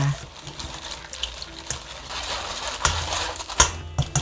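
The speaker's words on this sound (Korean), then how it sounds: "아까 저희가 풀 써놓은 거 여기다가 한번 걸으면 풀이 아주 곱게 잘 풀립니다" Rice flour paste for cucumber water kimchi is worked through a sieve into salted water, giving soft watery sloshing and trickling. Occasional sharp clicks and scrapes sound close by.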